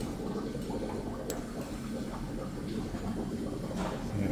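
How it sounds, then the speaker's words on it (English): Water and steam pour from the pit of a museum industrial steam engine while it warms through, a steady broadband rush and hiss with low rumble, continuous and fairly close. "Hear lots of water and steam and all sorts coming down from coming out of the pit."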